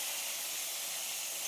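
Tomatoes fry in ghee in a pan with a steady, even sizzling hiss that holds unbroken and fairly loud throughout, with no voices present.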